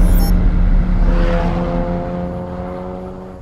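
A 2020 Ford Mustang EcoBoost on Pirelli Corsa tires gives a loud, steady engine drone on a hot lap, its tone holding and then gradually fading, with no clear talk.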